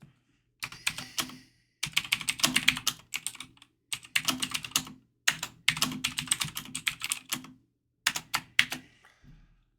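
Typing on a computer keyboard in quick bursts of rapid clicks separated by short pauses, close and crisp, with no voices.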